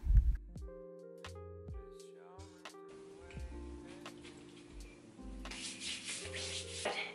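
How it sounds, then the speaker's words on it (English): A makeup wipe drawn across the hairline gives soft, close rubbing strokes that come and go over steady background music. "Taking this makeup wipe and going across my hairline, wiping any makeup I might have gotten in it."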